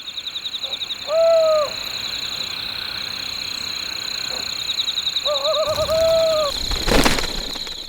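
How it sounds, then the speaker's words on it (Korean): A pair of Ural owls calls at night in a Korean mountain forest, giving two drawn-out, wavering hoots several seconds apart against a steady high insect-like whine. "밤이 되자 함께 모습을 드러낸 긴 점박이 올빼미 부부."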